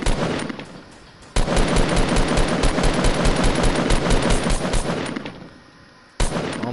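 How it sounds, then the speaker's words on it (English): Sustained automatic gunfire in a video game, a loud continuous rattle of rapid shots lasting several seconds, then a brief quieter stretch before another burst. "Oh, there's somebody shooting."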